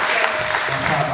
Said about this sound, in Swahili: Makofi mengi kwa